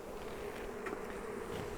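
Honey bees hum around an open hive being smoked before a nuc is installed, a steady close buzzing drone with a few individual bees whining past, no voices.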